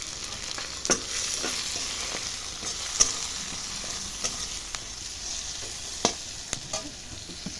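Tomato with cumin and coriander powder fries in a pan for masala dal, a moderate sizzle with occasional sharp clicks and scrapes of a spoon stirring the spices.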